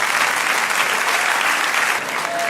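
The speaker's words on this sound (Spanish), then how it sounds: "Den un aplauso al Señor" Steady applause from a church congregation fills the space, a dense, even wash of clapping held at one level for a couple of seconds before dipping slightly at the end.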